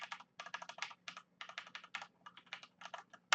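Close, quiet, steady typing on a Corsair K70 LUX mechanical keyboard with Cherry red switches, a run of soft rapid keystrokes grouped in short bursts with brief pauses, no voices.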